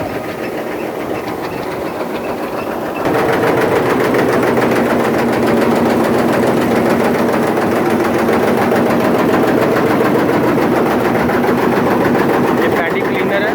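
A paddy cleaner running in a rice mill gives a loud, steady mechanical rumble with a fine rattling clatter that grows louder and denser after a few seconds and then continues evenly.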